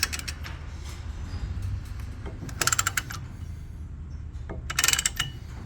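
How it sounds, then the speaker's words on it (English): Ratchet-style brake caliper piston press tool being cranked while pushing a piston back on a 2015-2020 GMC Yukon Denali rear brake, with two short bursts of quick clicking over a steady low mechanical hum, fairly close. "you can just start ratcheting, and it will press that sucker all the way in flat."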